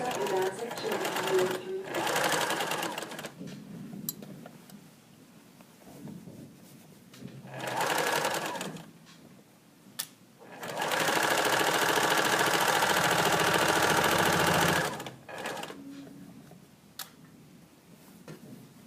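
A sewing machine stitches a garment seam along a curve, running in several separate bursts of steady whirring, the longest a few seconds, with pauses between while the sewer adjusts the fabric.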